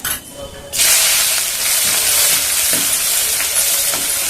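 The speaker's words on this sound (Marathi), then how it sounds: "कांदा छानपैकी मी तेलामध्ये परतून घेते" A loud, steady sizzle and hiss of onion frying in hot oil starts abruptly after a quieter moment, continuing without pause.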